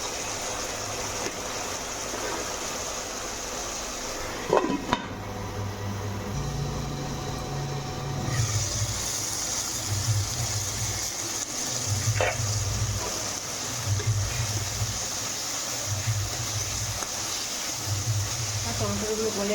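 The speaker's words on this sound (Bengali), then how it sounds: "টমেটোটাকে গোলা পর্যন্ত আমি ভেজে নেব, অল্প গলে যাবে" Tomatoes frying in a pan for aloo dum give off a steady sizzle, with occasional stirring clatter and a low rhythmic hum running underneath throughout.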